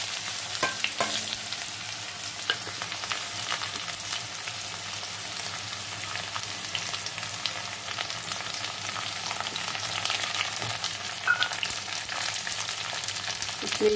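Raw mango pieces cook in a hot pan, giving a steady, close crackling sizzle with light stirring throughout and no talking.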